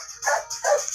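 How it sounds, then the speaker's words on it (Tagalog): A household dog gives two quick, close, loud barks, one after the other, with nothing else around them. "Ang ingay ng aso namin."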